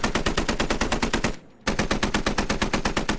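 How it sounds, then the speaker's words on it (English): Sustained machine gun fire from a video game, a rapid unbroken stream of loud shots that briefly cuts out for a moment before resuming at the same fast, steady pace. "he's just spamming bullets"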